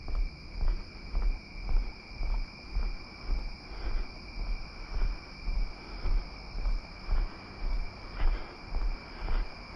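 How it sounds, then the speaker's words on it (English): Humid summer night in Maine: insects chirp steadily high above a rhythmic low pulsing of frogs, which swells in regular beats about every half second, a continuous nocturnal chorus with no talk. "You can hear the frogs and you can hear the crickets."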